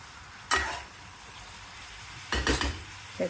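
Ivy gourd frying in oil, a steady soft sizzle with a few louder bursts of stirring and scraping in a pan, close by, no voices.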